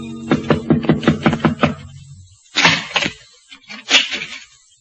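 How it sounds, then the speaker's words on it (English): A knock on a door at midnight in a 1946 radio drama: a run of about seven quick, sharp raps, followed by two heavier bangs after a pause, close and fairly loud with no talking over them. "A few minutes before midnight, the knock came."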